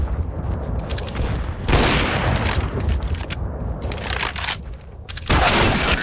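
Gunfire in Counter-Strike: Global Offensive, loud bursts and clustered shots filling most of the stretch, with a brief lull before a final heavy volley.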